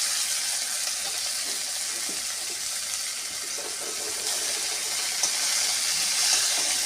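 Green chilies and pumpkin frying in a pan at home, a steady, even sizzle of hot oil that holds at a moderate level throughout with no talking.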